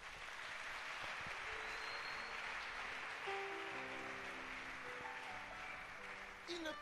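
A church congregation applauding together, a steady sustained wash of clapping with faint tonal music or organ notes rising underneath toward the end.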